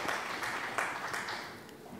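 Faint applause, a soft patter of clapping hands that swells briefly and then tapers off.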